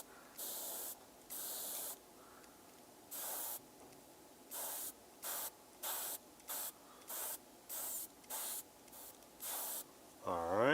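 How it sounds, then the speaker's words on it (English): Bursts of airbrush paint spray on an Iron Man miniature: a dozen short, even hissing pulses with brief gaps, close and steady, ending in a louder rising hiss. "We want to take advantage as much as possible of this airbrush."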